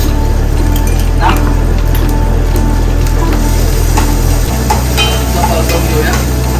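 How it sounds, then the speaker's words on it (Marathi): Vegetables and rice paste being stir-fried in a home kitchen pan, a steady broadband sizzle with scraping stirs, under a constant low hum throughout. "परतून घेऊया."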